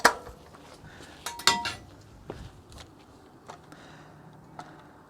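Pulled pork placed into a 9x11 foil pan, with a sharp metallic crinkle and clatter at the start, then a few scattered clinks and soft thuds fading into quiet.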